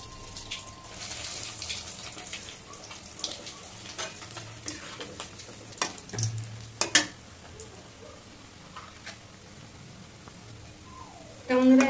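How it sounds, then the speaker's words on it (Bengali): Rohu fish fingers frying in hot oil, a soft continuous crackle and bubbling with scattered sharper pops and clinks, quiet and near. "আমরা এক এক করে সব ভেজে নেবো"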